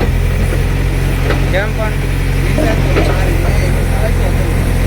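A JCB's engine idles in a steady, droning low hum, close and constant, while people talk over it.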